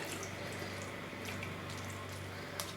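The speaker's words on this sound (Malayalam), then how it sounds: "വെള്ളം പോകാനായിട്ട് ഇങ്ങനെ ചായ അരിക്കുന്ന ചന്നിയിലോട്ട് വെച്ചിട്ട് ഒന്ന് അമക്കി കൊടുത്താൽ മതി." Cooked tapioca is pressed into a tea strainer, and faint water trickles and drips steadily as it drains, with soft clinks near the end.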